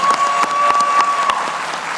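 A theater audience applauds with dense, continuous clapping that holds steady and loud for the whole stretch, with a thin tone running through the first part.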